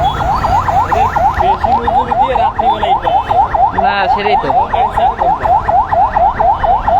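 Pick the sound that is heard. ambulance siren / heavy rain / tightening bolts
ambulance siren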